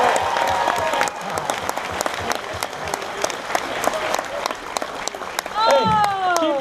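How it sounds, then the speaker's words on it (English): A convention audience at a fan expo claps steadily for several seconds, a dense continuous patter of many hands; a voice briefly speaks toward the end. "Round of applause for Casey."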